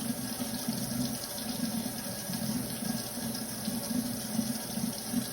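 Tap water running steadily into a sink while an enema bag is filled, a continuous close gushing hiss with no pauses and no voices.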